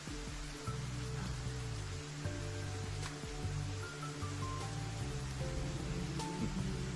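Rain falls as a soft, steady hiss under low musical tones and faint background sounds, quiet and continuous, with no talking.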